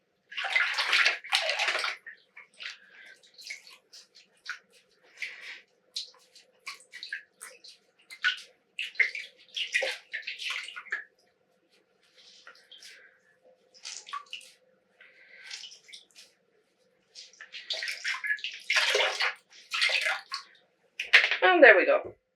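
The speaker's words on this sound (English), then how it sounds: "let's rinse the last one." Hand-dyed yarn is swished and rinsed in a tub of water in irregular bursts of splashing and sloshing, close by, with quiet pauses between.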